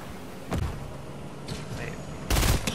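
Gunfire bursts in the Fortnite video game, with a sharp shot near the half-second mark, a short rattle around 1.5 seconds and a louder close burst near the end, amid game noise and player voices.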